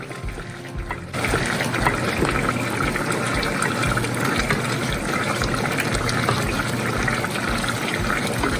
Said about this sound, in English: we're just gonna keep intermittently adding liquid to it